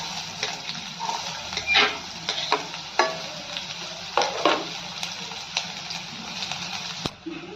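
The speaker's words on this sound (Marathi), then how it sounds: "कांदा छान असा गुलाबी रंग येईपर्यंत परतून घ्यायचा" Finely chopped onion fries with cumin in hot oil in a kadhai: a continuous close sizzle broken by repeated scraping clatters of a spoon stirring against the pan.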